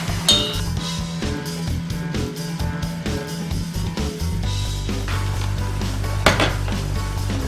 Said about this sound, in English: So now I'm going to add eggs one at a time, and I'm going to blend.